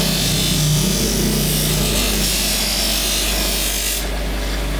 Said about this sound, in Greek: Μέσα τρίβουν σμυρίδι. Και όπως τις απλώνουμε στην πανόβολτα, τρίβουν σαν γυαλόχαρτα ψηλά τη λάμα